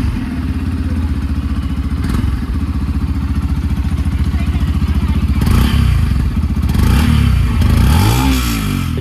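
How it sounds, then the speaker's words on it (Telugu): A 2024 Yamaha FZ-S V4 motorcycle idles close by with a steady, even thumping exhaust note, then is blipped a couple of times into brief louder revs. "ఒకసారి ఎగ్జాస్ట్ నోట్ అయితే వినిపిస్తాను"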